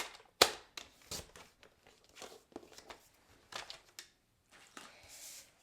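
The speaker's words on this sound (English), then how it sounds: "I'm going to put it in my trimmer and I'm going to cut at 3" Sharp clicks and crisp slicing swipes from a paper trimmer blade cutting through doubled cardstock, a scattered run of short close-up snaps and scrapes, fairly quiet.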